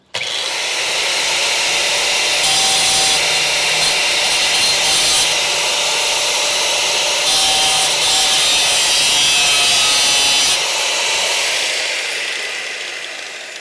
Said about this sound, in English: I really should probably grind this down.